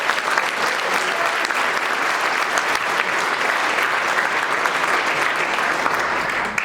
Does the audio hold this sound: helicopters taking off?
no